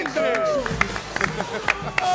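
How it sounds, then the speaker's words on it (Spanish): A studio audience on a Spanish-language talk show claps for a guest entering, with scattered sharp hand claps and crowd noise heard among voices. "Fuerte el abrazo, el aplauso."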